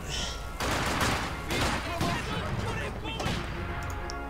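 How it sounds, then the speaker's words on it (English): Artillery and gunfire in a World War II-style video game battle, with repeated heavy booming blasts and crackling shots in overlapping bursts, dense and loud throughout. "Now that I built an artillery gun, I can start supporting my allies."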